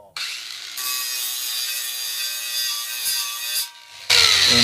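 Angle grinder cutting into steel in a forge workshop, a loud continuous high grinding whine that rises, dips briefly and then surges harsher at the end, with no talking.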